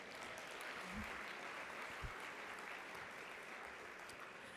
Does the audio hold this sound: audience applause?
yes